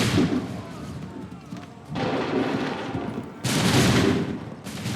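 Musket volleys roar out in the Assassin's Creed 3 video game as loud, dense, sustained bursts of crackling fire, separated by short lulls.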